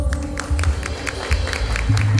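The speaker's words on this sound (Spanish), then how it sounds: "Fuerte el aplauso." Applause from a crowd at a live outdoor concert, a steady patter of many hands clapping at moderate volume, with music or low rumble underneath.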